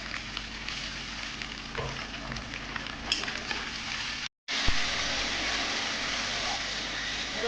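Onion, ginger and green chili paste fries in hot oil for a boal fish curry, a steady close sizzle with faint stirring and a brief gap of silence partway through.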